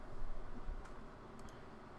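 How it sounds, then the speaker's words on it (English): A loud computer keyboard sits close to the mic, giving a few faint, sparse key clicks over a steady low background hiss. "my keyboard is probably pretty loud"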